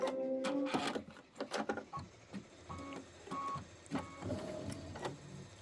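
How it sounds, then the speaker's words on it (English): A sewing machine stitches background quilting with glitter thread, making quick mechanical clatters and whirring bursts in an uneven rhythm with short pauses, close and fairly quiet. "we're going to do the background quilting"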